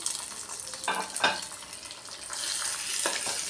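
Fried cashews and raisins being stirred into a dish in a pan, soft sizzling with a few scraping strokes of a spoon, close and fairly quiet, no voices.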